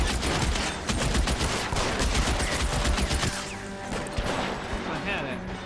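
Dense, continuous gunfire rattles through an L.A. Noire shootout, with rapid overlapping shots and impacts filling the whole stretch and a voice talking underneath.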